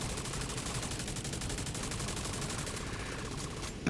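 Sustained machine gun fire in a video game rattles on as a loud, dense, rapid burst stream for the whole stretch, with no voices over it.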